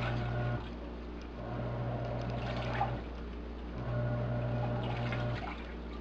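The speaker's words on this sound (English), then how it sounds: "it has finished filling, and as you can see, it's doing the wash cycle." A Haier HLP21N portable washing machine runs its wash cycle, giving a steady watery churn with a low motor hum that swells and pauses in repeating phases of a few seconds each.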